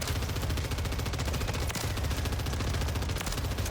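An assault rifle loaded with 5.56 ammunition fires in Call of Duty Warzone: a loud, unbroken, rapid stream of gunshots runs continuously from start to finish with no pauses.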